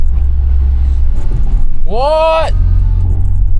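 A car engine rumbles low and steady in the background while a voice briefly calls out over it, its loud rough drone continuing throughout.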